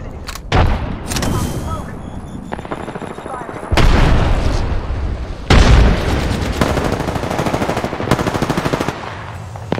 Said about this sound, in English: that's a whole grenade